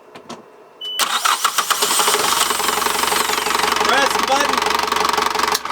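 A boat engine cranks and catches after its loose solenoid is fixed, then settles into a loud, steady, knocking idle nearby. A brief spoken instruction comes just before it starts.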